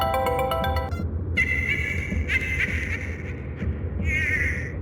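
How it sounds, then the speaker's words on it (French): A phone ringtone from a horror story plays as a bright, repeating electronic tone in several short bursts with brief gaps, over a steady low background hum. "Quand le téléphone de Bella sonna."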